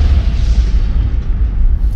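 A movie explosion sound effect rumbles loud and deep, a sustained booming roar that fills the whole two seconds before easing slightly at the end.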